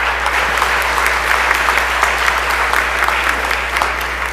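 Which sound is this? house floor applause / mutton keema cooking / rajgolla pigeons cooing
house floor applause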